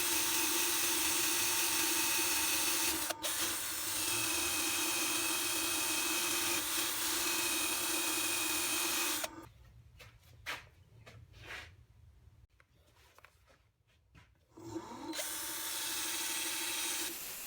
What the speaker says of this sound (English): Now we're running sandpaper all the way to 600 like I do usually, from 120 all the way to 600.